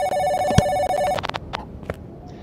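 Telephone bell ringing inside the video game Giraffe Town, a repeated electronic ring for about a second that then cuts off, leaving a few short clicks and faint tones behind it.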